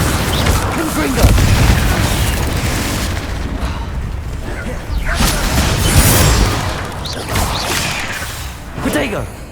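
Repeated Confringo blasting spells going off in the Hogwarts Legacy video game, loud booming bursts and whooshes following one another in dense, continuous combat noise.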